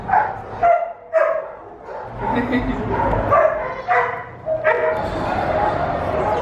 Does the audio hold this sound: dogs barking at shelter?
yes